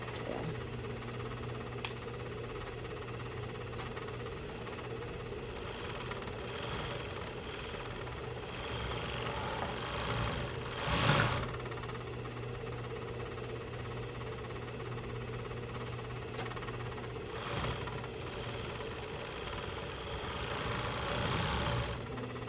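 A serger sewing machine running quietly at a low, steady hum for over twenty seconds, with a few faint clicks and one brief louder burst.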